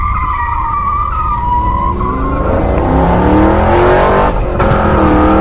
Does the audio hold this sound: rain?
no